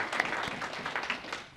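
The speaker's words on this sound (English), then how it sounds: "offer another round of applause" A brief, fairly soft round of audience applause at a talk, scattered clapping that thins out toward the end.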